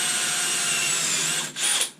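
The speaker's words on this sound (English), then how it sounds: "And this is not a sharp drill bit." A power drill with a dull bit bores through the thin, cheap metal of a guitar effects pedal enclosure, giving a loud, steady high whine that dips briefly near the end before grinding on.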